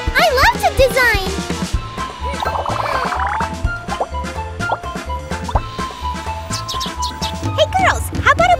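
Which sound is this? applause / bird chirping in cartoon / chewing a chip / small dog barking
bird chirping in cartoon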